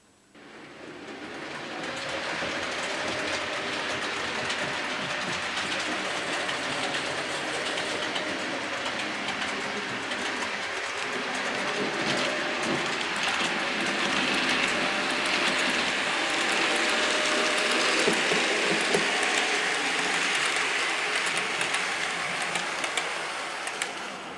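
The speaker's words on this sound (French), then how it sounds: "je lance un train de la gare centrale en direction de la gare cachée" HO scale model train rolling from a central station toward a hidden station past a level crossing, a continuous whirring rumble that swells slightly as it runs, with no talk.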